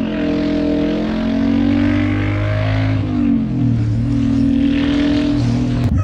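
A 2007 Suzuki Boulevard M109R cruiser motorcycle accelerates hard in a straight line, its big engine roaring loud and near, with the pitch rising through the gears and dipping at each shift.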